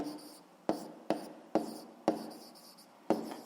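A pen writes notes by hand in a quiet room, several close scratchy strokes, each opening with a sharp tap and trailing off, repeated at an irregular pace.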